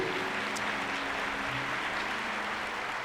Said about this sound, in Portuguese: Você pode aplaudir Jesus mais uma vez aí?